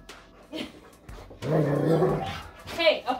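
A dog makes a few soft, breathy vocal sounds, a muffled grumble then a short yip, close by with human talk around it.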